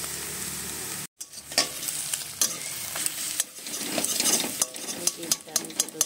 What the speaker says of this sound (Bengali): ডিমটা আমি ছোটো ছোটো করে ভেজে নেব।